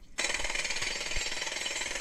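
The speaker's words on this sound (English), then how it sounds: "people are doing road work and using jackhammers all the time" A jackhammer at road work starts abruptly and pounds on in a rapid, continuous rattling burst, loud and harsh, with no voices.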